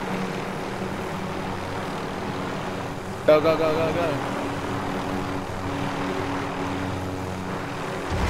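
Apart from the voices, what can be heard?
helicopter flying in a video game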